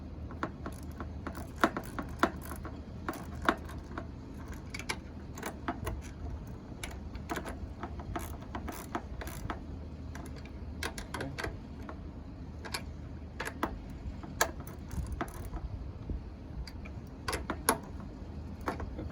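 Mechanism of a Craftsman MTD snowblower turning over after being engaged, giving a steady mechanical rattle with rapid ticking clicks throughout, moderately quiet and close, with no talking.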